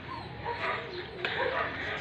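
A dog whimpers and yips in short bursts at close range, its small cries rising and falling over about two seconds, with a faint voice in the background.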